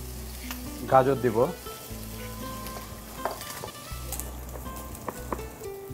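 Onion and carrot fry in a pan, with a steady sizzle running throughout beneath a short spoken phrase and a brief burst of stirring clatter.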